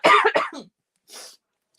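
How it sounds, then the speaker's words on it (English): A person coughs twice in quick succession at close range, followed by a short breathy exhale, then silence. "This cough is just not shifting."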